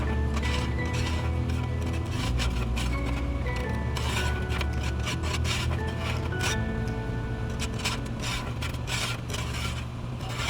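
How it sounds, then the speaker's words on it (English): Grease being scraped off a Weber Q 2000 griddle pan toward the corner grease holes, a continuous, close, rough rasping scrape with fast repeated strokes. "start pushing this grease down into those grease holes in the corners"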